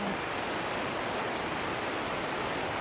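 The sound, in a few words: heavy rain outside a polytunnel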